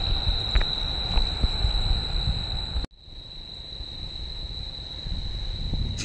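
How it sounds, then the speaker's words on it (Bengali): Crickets by Chilika Lake on a full-moon night keep up a steady, high, continuous trill that runs unbroken through the whole stretch, moderately loud over soft ambient noise. "ঝিঝি পোকার এই আওয়াজটা শুনে মনে হচ্ছে ঠিক যেন সেই হীরক রাজার দেশে চলে এসেছি"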